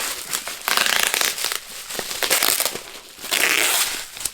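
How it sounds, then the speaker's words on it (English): Bubble wrap being pulled off a package of leather strops, with loud, close crinkling and crumpling in bursts separated by short pauses. "Okay. Bubble wrap."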